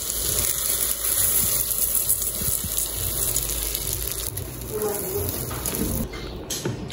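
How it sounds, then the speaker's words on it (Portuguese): Water is poured into a hot pot where rice is frying with crushed garlic and seasoning, giving a loud rushing gush mixed with sizzling that settles into a steady simmer. "Ó, já coloquei aqui a água."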